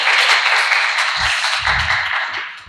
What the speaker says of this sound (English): please give a big round of applause for Dr. Ryan